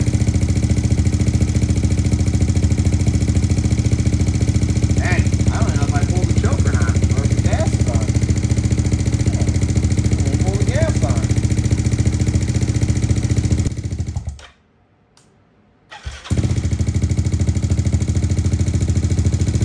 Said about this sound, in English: All right, guys, we are doing first fire up here.